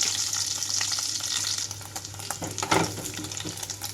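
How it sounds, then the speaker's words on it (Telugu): Cumin seeds frying in about a tablespoon of oil for paneer fried rice, a bright crackling sizzle up close with a few scraping stirs toward the end, no talk. "ఇందులోకి జీలకర్ర వేసి వేయించుకుంటున్నాను"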